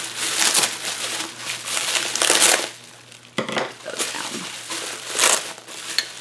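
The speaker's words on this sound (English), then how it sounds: "But the tape's coming off pretty easy" Packing tape peeled off a mail package, crinkly tearing and crackling bursts in several uneven pulls, close and moderately loud with quiet pauses between.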